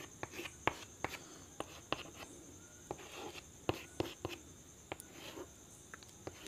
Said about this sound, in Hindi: जैसे कि मैं यहाँ पर लिखता हूँ